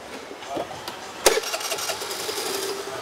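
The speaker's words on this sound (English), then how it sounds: "All right, so the scooter is running." A scooter that tends to die out at stops and idles low starts with a sharp crack, then settles into a light steady idle that runs to the end.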